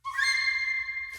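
Piccolo run from a Symphonic Orchestra sample library, a brisk high shrill flourish that climbs and then holds a piercing sustained note before cutting off, played alone at moderate volume.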